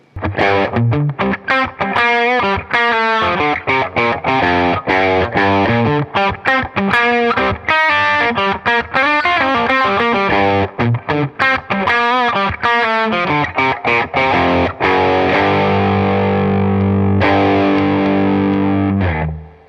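Electric guitar through a Marshall Blues Breaker overdrive pedal gives a light, crunchy drive as a loud, busy passage of picked notes and strummed chords plays alone, ending on a held ringing chord.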